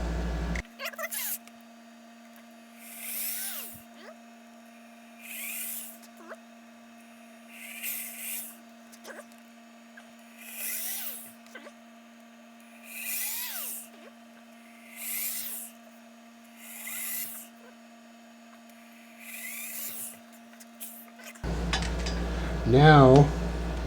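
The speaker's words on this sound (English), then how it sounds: "So let me get my drill and we'll start drilling." A power drill whines in repeated short bursts, drilling pickguard screw holes in a Squier Stratocaster guitar body, about eight evenly spaced runs with pauses between, close and fairly loud against a steady background hum.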